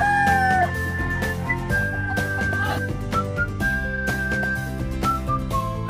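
Several gamefowl roosters loaded on a motorcycle crow again and again, close by, with their calls overlapping. Clucking mixes in between the crows.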